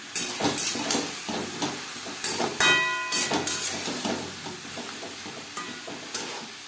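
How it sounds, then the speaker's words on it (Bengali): Lentils with turmeric and salt are stirred in a pot for vegetarian winter khichuri: uneven scraping strokes over a soft hiss and sizzle, with a short ringing clink midway and no talking. "কাঁচা গন্ধ যাওয়া পর্যন্ত নাড়াচাড়া করে যাবে"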